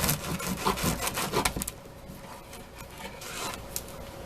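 A knife saws through a crusty loaf of sourdough bread in a series of rough rasping strokes during the first second and a half, then the sound fades to faint scraping.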